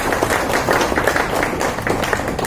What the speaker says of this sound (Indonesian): tepuk tangan dulu kok